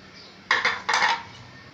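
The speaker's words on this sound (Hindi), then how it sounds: "इसको अच्छी तरीके से हमने मिक्स कर लेना है।" A spoon scrapes and clinks against a metal pot while pickle spices of garlic, chili and fenugreek are mixed, two quick bursts of clattering close by.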